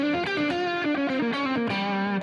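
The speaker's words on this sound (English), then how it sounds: "The Pantheon on the Marshall sounds like this." An electric guitar runs through a Pantheon overdrive pedal into a Marshall amp, playing a brief phrase of mildly driven notes with a warmer, less bright tone, close and uninterrupted.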